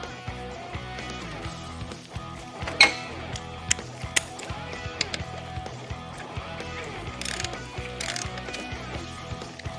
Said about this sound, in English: I like to start it by hand and then snug it up with my socket wrench and my 5/8 inch socket.